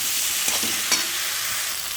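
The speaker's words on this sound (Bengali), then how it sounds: "এই দেখো টমেটো দিয়ে দিলাম একটা। ভালো করে কষাতে হবে।" Spice paste with tomato being stir-fried in hot oil: a loud, close, steady sizzle with a couple of soft spatula scrapes, and no voices.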